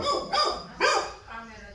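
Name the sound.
dog barking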